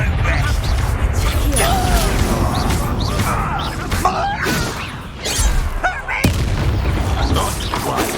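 A fire spell is cast repeatedly in the Hogwarts Legacy video game, heard as loud whooshing bursts and booming impacts over combat effects, with a voice speaking between the blasts.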